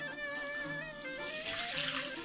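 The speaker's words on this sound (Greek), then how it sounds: "450 ml χλιαρό νερό για να μπορέσει να ενεργοποιηθεί η μαγιά μας." Lukewarm water poured in to activate yeast for a Greek lagana flatbread dough, a continuous running, splashing flow with a rising ringing tone as the vessel fills, close and alone.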